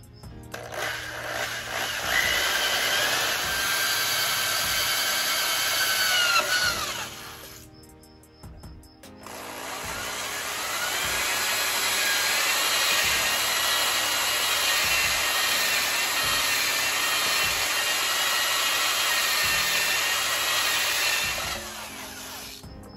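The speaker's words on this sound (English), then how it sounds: "Let me get the drill ready, and we're going to drill them out" A power drill whines steadily as it bores out metal on a small block Mopar alternator mount, pausing briefly around the middle before grinding on again for a long stretch, close and loud.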